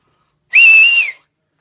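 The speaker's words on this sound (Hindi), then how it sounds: "नंबर 9 पे आता है सीटी कैसे बजाया जाए।" A single sustained whistle from a person's lips holds one steady, clear tone for about half a second, then cuts off, loud and close in otherwise silent surroundings.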